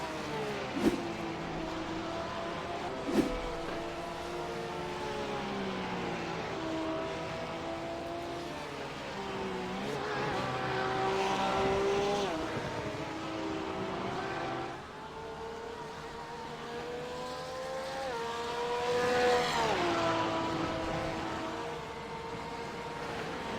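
GT3 race car at Circuit de Jerez exiting the final turn, engine note rising and falling through gear changes as it winds back up after running wide into the gravel, steady and fairly close throughout.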